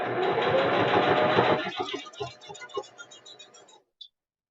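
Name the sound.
sewing machine stitching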